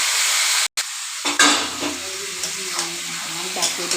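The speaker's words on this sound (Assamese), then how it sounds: "এতিয়া মই মাংসখিনি ঢালি দিম।" Duck meat hits hot oil with a sharp burst, then settles into a steady crackling sizzle close by, with a few louder pops and stirring scrapes.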